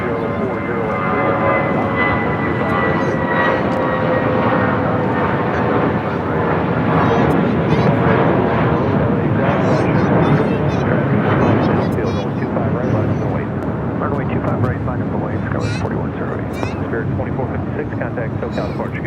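A Delta jet airliner at LAX gives a continuous jet engine roar, and a high whine slides downward early on as the aircraft passes. The roar swells through the middle and then eases, with a voice talking faintly beneath it.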